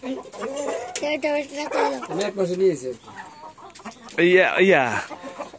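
Tiger breed hens and a rooster on a farm cluck and call in a close, loud run of bird sounds, with a sharper burst near the end; a person speaks at times among the birds.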